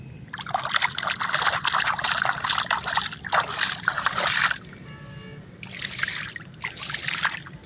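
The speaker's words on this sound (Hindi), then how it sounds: "ये उधर से नहर से पानी आ रहा है" Water runs steadily along a small village irrigation canal in Pakistan, a continuous trickling and sloshing rush heard close by that briefly drops to a softer flow before swelling again.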